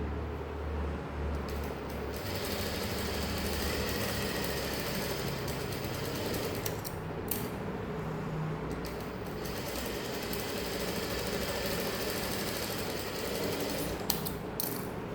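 A sewing machine runs at speed stitching tucks on a saree blouse, its rapid mechanical whir and needle clatter continuous and close, with brief pauses and restarts near the end.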